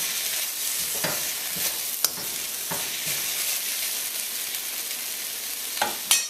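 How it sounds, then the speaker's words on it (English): Diced tomato stirred into a sizzling stir fry of yard beans with cashews, a steady frying hiss broken by a few sharp scrapes and clatters of the utensil against the pan, close and alone. "I'm going to go in with some diced up tomato. Give that a quick stir, just to brighten it up a bit."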